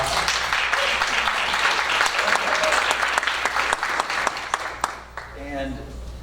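Loud, sustained applause from an audience at a school board meeting, dense clapping continuing for several seconds before thinning out, with a voice starting to speak near the end.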